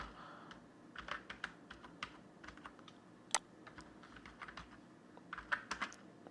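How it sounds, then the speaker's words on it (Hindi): Keys clatter on a computer keyboard while customer details are entered in QuickBooks 2021, a steady run of irregular close, crisp clicks with short pauses and no voices. "वही नेम आप यहाँ पर टाइप करेंगे।"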